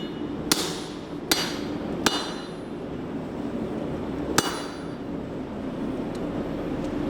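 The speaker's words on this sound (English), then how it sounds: "now I'm drawing out the pre-form of the blade" A hammer strikes hot steel while drawing out a knife blade pre-form at a forge: four sharp, ringing blows spaced unevenly over several seconds, close and clear above a steady background hum, with no talk.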